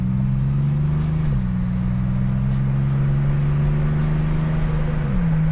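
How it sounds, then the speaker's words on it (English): A turbocharged 1987 Buick Grand National engine hums steadily from inside the cabin, its pitch climbing gradually and dropping briefly at a couple of firm gear shifts. "Let's see if we can hear the turbo."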